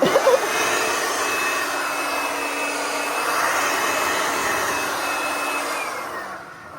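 A small leaf blower used for clearing a driveway at a homestead in Ghana runs with a steady, loud whooshing roar that holds for several seconds before tapering off, with no talking.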